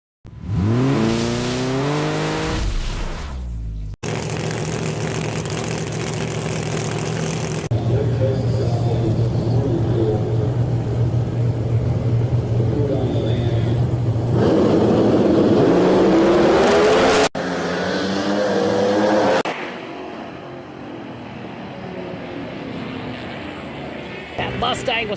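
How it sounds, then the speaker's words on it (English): Pro Mod drag cars, one a Mustang, roar down the strip at a drag racing event with sustained loud engine blasts and sudden cutoffs, an announcer's voice talking over the din. "That Mustang was coming strong on the big end, but it could not get there."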